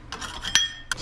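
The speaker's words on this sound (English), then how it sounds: "First thing I wanna do is just cut up some scallions." A knife slices scallions on a cutting board in a home kitchen, giving a few quick crisp chops and scrapes over about a second, close and clear with no talk.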